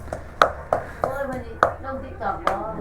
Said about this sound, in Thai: ซอยมะฮุง